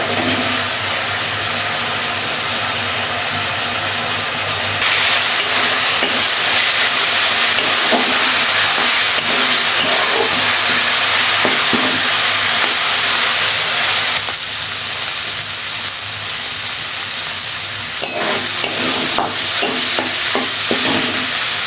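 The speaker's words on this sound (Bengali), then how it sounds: "ভালোভাবে কষিয়ে নেব।" Vegetables sautéing in a pan: a loud, steady sizzle with a hissing burst in the middle, and repeated stirring scrapes and knocks, most frequent near the end.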